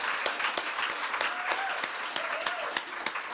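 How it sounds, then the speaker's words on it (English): Applause from an audience at a book prize shortlist announcement, a steady wash of many hands clapping that holds for the full few seconds, with a brief voice faintly heard partway through. "Big round of applause."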